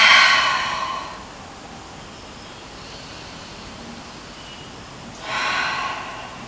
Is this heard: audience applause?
no